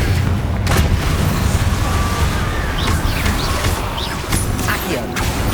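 Loud Confringo spell explosions in Hogwarts Legacy on PS5, several sharp booms and crackling bursts over a constant roaring battle rumble.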